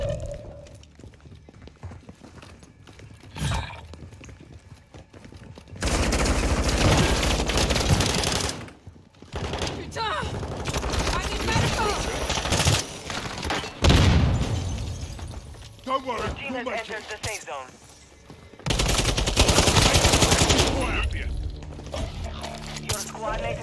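Bursts of automatic gunfire in Call of Duty Warzone 2 rattle in loud, sustained volleys with shorter sporadic shots between, mixed with game sounds and radio-style voice callouts.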